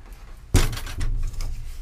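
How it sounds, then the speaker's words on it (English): A hinged door on a tournament catfish boat, fitted with stainless steel barrel latches, swings inward with a sudden close clunk followed by a brief rattle and scrape. "The door swings in."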